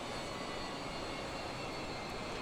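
Aircraft engines in Microsoft Flight Simulator throttling back on the approach to land, a steady broadband jet roar, close and unbroken, alone with no voices.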